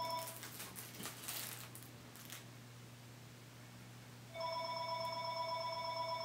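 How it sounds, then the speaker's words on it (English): A landline telephone rings in a quiet room: a clear electronic ring enters partway through and sustains steadily to the end over a low steady hum, with no talking. "Phone line keeps ringing."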